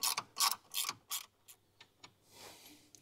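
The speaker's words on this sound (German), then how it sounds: "Dazu einfach die Schraube öffnen. Oder die Mutter öffnen." Ratchet wrench clicking in quick bursts while loosening a nut on the battery bracket of a 2023 Ford Ranger during a winch installation, close and crisp, followed by a few softer scattered clicks.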